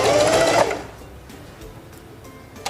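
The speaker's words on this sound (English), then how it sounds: "Select number 3 on the stitch selector dial and sew a few stitches for your upper bar tack." A Singer 4411 heavy-duty sewing machine stitches a short bar tack, a dense burst of rapid mechanical needle clatter for about half a second, then quiet with a small click near the end.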